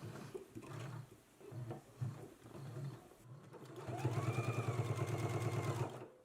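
A sewing machine stitching close to the pressed edge of a garment: a softer start with short bursts, then a loud, rapid, steady mechanical whirring run of needle strokes, close and alone.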